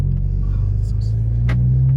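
An Alfa Romeo Giulia fitted with an upgraded Monza exhaust gives a deep, steady rumble at low revs while driving, close and loud inside the cabin.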